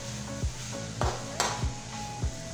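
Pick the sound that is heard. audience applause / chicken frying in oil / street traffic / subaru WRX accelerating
chicken frying in oil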